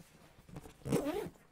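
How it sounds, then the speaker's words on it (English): A zipper slides along a goalie backpack bag, one quick rasping pull that rises briefly and fades, close and fairly quiet. "just to kind of show you guys how the zipper works here"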